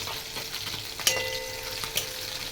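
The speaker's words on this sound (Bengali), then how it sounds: "পেঁয়াজ ভাজা শেষ এখন আমি চাপাটা দিয়ে ভালোভাবে ভেজে নিব" Chapa dried fish with fried onions sizzling steadily in a pan, a continuous frying hiss with a couple of brief stirring clinks, no talk.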